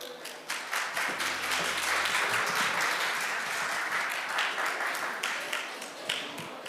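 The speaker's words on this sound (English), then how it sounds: "Please welcome Professor Chun with a big round of applause" At an international sports conference, an audience applauds warmly for a welcomed professor, a full, close roll of clapping with distinct individual claps that swells and stays strong, with a brief low tone near the start.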